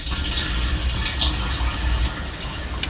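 White vinegar pours and gushes into the fuel tank of a Range Rover Classic, a steady close splashing flow lasting a few seconds.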